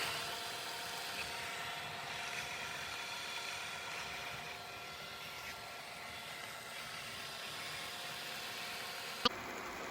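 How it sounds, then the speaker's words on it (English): A Deebot robot vacuum runs with its Pro mopping attachment, giving a steady, loud motor whir and hum that holds evenly throughout, ending in a sharp click. "That's the only negative I see with that Pro mopping pad, is it's really loud."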